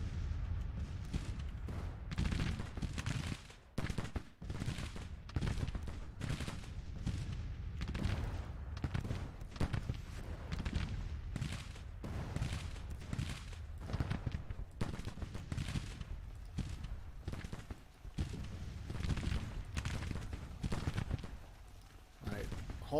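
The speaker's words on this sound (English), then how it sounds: "Let's watch the Henry rifles in action." Volleys of Henry rifle fire crackle continuously in the Civil War strategy game Grand Tactician, dense overlapping shots rolling on for the whole stretch, fairly distant and even, with a voice talking over the battle.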